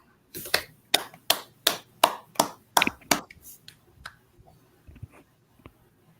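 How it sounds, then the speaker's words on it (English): A small group claps hands in a steady, distinct rhythm of about eight sharp claps, then several fainter scattered claps trail off, close and without talk. "Khan, clap it up."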